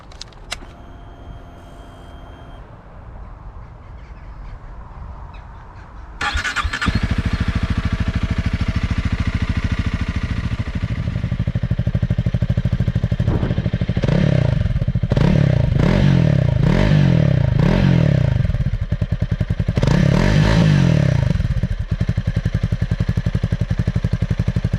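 A 2023 Honda CRF 300 Rally motorcycle engine cranks and starts after a few quiet seconds, then runs at a steady loud idle nearby with several short throttle blips, no talk.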